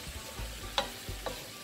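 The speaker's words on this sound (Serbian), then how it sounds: "I dodat ćemo odmah pečurke sveže. I ovo ne treba puno nešto pržiti" Fresh mushrooms fry in a pan for a chicken-and-mushroom sauce, a soft steady sizzle broken by a few sharp scrapes and clicks of stirring.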